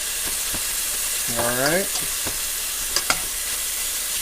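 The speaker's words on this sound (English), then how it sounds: "That's cooking bacon." Bacon sizzles and fries steadily in a pan, a constant close hiss with brief stirring scrapes; a voice speaks briefly over it.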